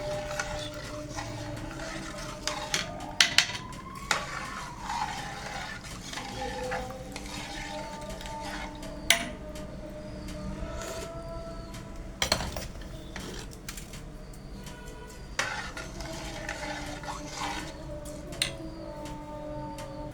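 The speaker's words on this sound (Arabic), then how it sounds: "نقلب الرز اهوت عشان الملح يدوب في الميه." Rice being stirred in a pot of salted water makes repeated scraping and knocking sounds as a utensil works against the pot, with occasional sharper clinks and a soft watery sizzle beneath. There is no talking.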